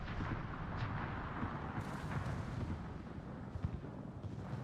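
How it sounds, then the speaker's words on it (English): Naval gunfire from the battleship Bismarck in the World of Warships game, a dense, continuous rumble of heavy booming shots and low explosions filling the whole stretch at moderate loudness, with no talk. "Shots out by the Bismarck to the Normandy."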